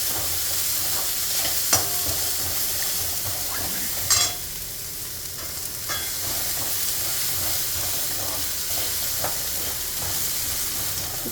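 Flattened rice (aval) sautéing with onion in a pan, a steady loud sizzle and steamy hiss throughout, with occasional clinks and scrapes of a spoon.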